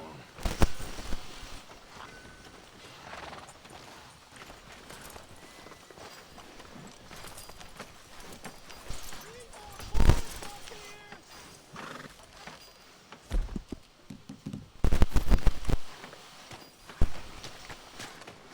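Horse hooves clip-clop steadily on a street in the video game Red Dead Redemption 2, with occasional snorts and whinnies, growing louder and busier near the end while people talk over it.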